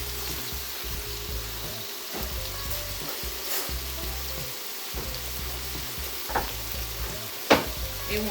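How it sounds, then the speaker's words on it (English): Mixed vegetables with onion sizzle and crackle in a hot pan while being stirred, a steady frying hiss with scattered scrapes and clicks of the utensil, one sharper knock near the end. "So what I'm gonna do is just gonna stir these vegetables around."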